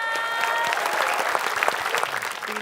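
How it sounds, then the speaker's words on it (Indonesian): Studio audience clapping steadily throughout at a quiz show, a dense, lively burst of applause close by with faint voices mixed in. "kita berikan tepuk tangan dulu dong, biar semangat"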